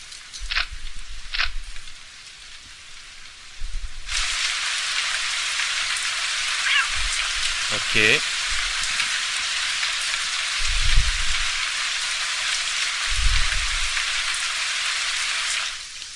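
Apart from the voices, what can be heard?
rain sound in a video game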